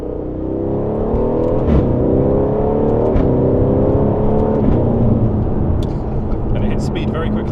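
An Audi saloon fitted with a Lamborghini V10 accelerating hard on a country road, a loud close engine roar rising steadily through the revs with a brief shift, heard from inside the car.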